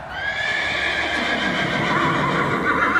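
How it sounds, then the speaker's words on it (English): A horse gives a loud, sustained neigh and whinny while rearing in an arena during a jousting-style knight event at an agricultural center, with faint hoof clatter beneath and no talking. "Sir Stanley's horse has reared and this knight is on the ground"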